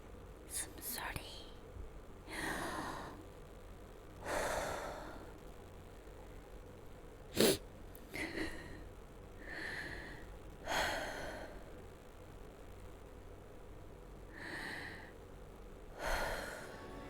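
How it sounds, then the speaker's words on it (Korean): Soft, close breathing from a person: a series of airy breaths, sighs and sniffs, spaced irregularly every second or two over a faint steady hiss, with no words spoken. "숨소리."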